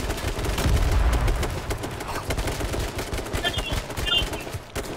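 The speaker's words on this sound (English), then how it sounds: "So many explosions." Rapid gunfire and booming explosions fill a video game battle, dense bursts of automatic fire with a heavy blast near the start, loud and continuous, with faint voices underneath.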